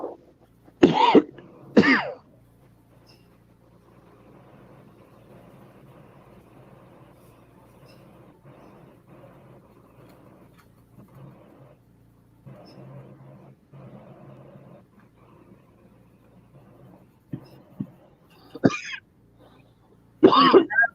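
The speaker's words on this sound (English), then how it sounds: "Why are you coughing?" A person coughs sharply and clears their throat in close bursts at the start and again near the end, with a low, quiet rumble of a vehicle in between.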